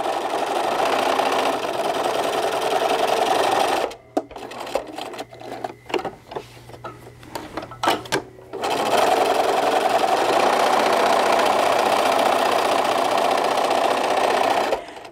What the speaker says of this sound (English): the top stitching that we're doing right here, and the top stitching on the pocket too